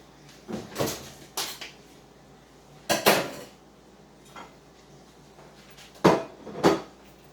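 A pan of pork spareribs slides into an oven set to 375, heard as several sharp metallic clanks and scrapes in separate bursts with quiet gaps between them.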